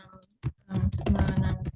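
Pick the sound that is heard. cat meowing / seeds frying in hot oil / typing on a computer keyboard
typing on a computer keyboard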